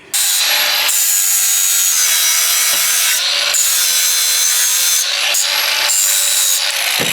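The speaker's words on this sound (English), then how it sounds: "I'm not saying I'm good on a flapper disc, but I'm pretty good on a flapper disc." Flap disc grinding metal on a Nissan NP300 pickup, a loud harsh abrasive whine with rasping scrapes, broken by short pauses and changes in pressure, close by and without talk.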